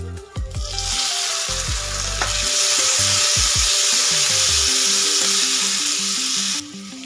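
Chopped onion and tomato sauté in hot oil for a sprouted horse gram curry, giving a loud, constant sizzle with clattering stirs near the start, over background music.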